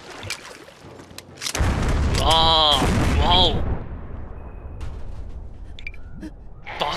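In the ZombiU video game, a shot red barrel explodes with a sudden burst that trails off into a broad, rumbling roar lasting a couple of seconds. A man exclaims loudly over the blast, and faint game noises follow.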